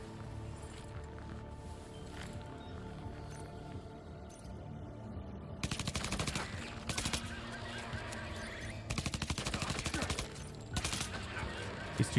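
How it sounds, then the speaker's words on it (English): A silenced machine pistol in a video game fires several short bursts of rapid, muffled shots over a low ambient bed, with gaps of quiet between volleys. "Silenced machine gun pistol."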